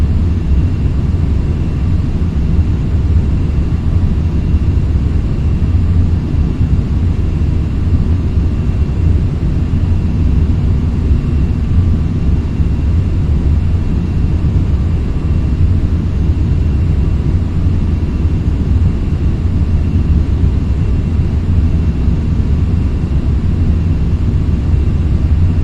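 Cockpit of a Boeing 747-8 flying on with one failed engine in the FSX flight simulator, a continuous low, even engine rumble that stays loud and steady throughout with no talk.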